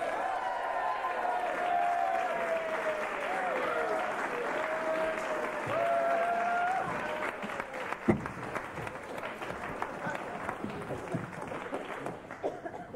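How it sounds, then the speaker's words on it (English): Sustained audience applause at an early-1990s stand-up comedy show, dense clapping that swells and then thins out, with faint voices and whoops mixed in. "everyone ready with the applause?"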